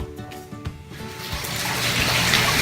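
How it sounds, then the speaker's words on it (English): Rainwater leaking from a ceiling and dripping into a bowl indoors: a few close splashy drips at first, then a steady louder rush of falling water. "I think this is the main way that the water is coming in from dripping up above. So I'm catching it in a bowl"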